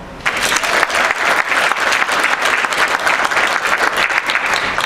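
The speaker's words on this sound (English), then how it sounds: "I want you all to give yourself a big round of applause" Audience applause at a Toastmasters District 24 conference after a humorous speech, dense sustained clapping from a large crowd, loud and steady throughout.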